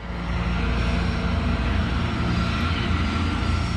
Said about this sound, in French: Le Boeing de la Pan Am dépasse la sortie C3 et continue en direction du 747 de la KLM